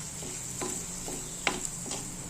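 Chili, coriander and turmeric powders sauté in hot oil with a constant bright sizzle, broken by several soft stirring scrapes and one sharper clink, close by and with nobody speaking.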